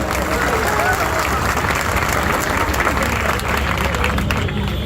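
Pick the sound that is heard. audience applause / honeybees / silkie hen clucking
audience applause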